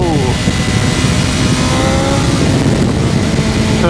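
A BMW M1000R motorcycle with its stock exhaust revs hard and loud up close, a continuous raspy engine roar that holds steady throughout.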